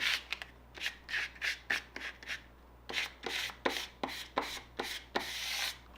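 Credit card used as a squeegee, rubbed over clear transparent shelf liner on a wood tray, giving a series of about a dozen short, close scraping strokes in an uneven rhythm.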